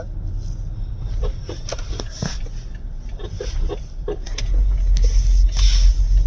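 Early-morning traffic on Agargaon road in Dhaka, with cars passing at moderate distance, a low engine hum that swells louder toward the end, and scattered clicks and knocks nearby.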